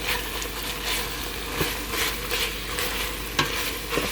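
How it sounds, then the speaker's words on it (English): Garlic, mushrooms and spices sizzle in a hot pan with hamburger for chili while a utensil stirs and scrapes, giving a steady close frying hiss broken by a few sharp scrapes, with no talking. "I'm going to add about a heaping teaspoon of garlic because I love garlic. Let's stir that up."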